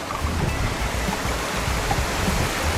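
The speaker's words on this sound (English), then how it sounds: "Oh, is this our waterfall?" Continuous rushing water noise, broad and steady like a waterfall, with some wind buffeting the microphone.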